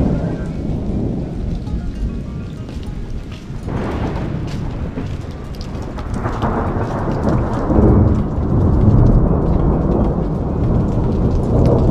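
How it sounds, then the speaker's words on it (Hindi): A heavy mountain thunderstorm: loud, steady rain hisses while deep thunder rolls and swells through the middle and end, close and enveloping, with no voices. "कभी बारिश है, कभी बादल गरज रहे हैं, बिजली हो रही है"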